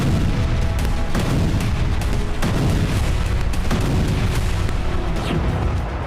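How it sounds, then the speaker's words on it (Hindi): A Grad rocket launcher bombardment in Starobeshevo, Donetsk, heard as a continuous dense roar of rapid launches and booms, loud and unbroken throughout. "रूसी सेना ने ग्रैड रॉकेट लॉन्चर से जबरदस्त तबाही मचाई"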